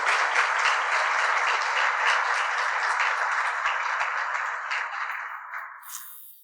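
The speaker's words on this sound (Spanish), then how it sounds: "Iba a pedir un aplauso de reconocimiento, pues, pero veo que se me adelantaron." Conference audience applause, a sustained wash of many hands clapping that holds steady and then gradually thins out and fades toward the end.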